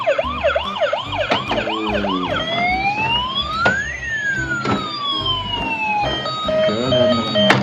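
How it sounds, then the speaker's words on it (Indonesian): A battery-powered toy fire truck sounds its electronic siren up close, rapid warbling wails that shift into slow rising and falling sweeps, loud and continuous with a few sharp clicks. "Ini adalah truk pemadam kebakaran atau fire truck."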